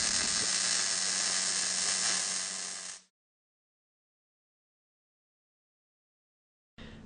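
A MIG welding gun lays a bead on a T-joint, giving a steady buzzing crackle for about three seconds that cuts off to silence, then resumes briefly near the end.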